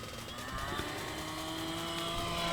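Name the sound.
E-Flite Commander RC model airplane flying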